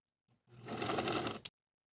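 A sewing machine bastes pleats in fabric with one short, close run of rapid stitching that lasts about a second and ends in a sharp click, with silence on either side.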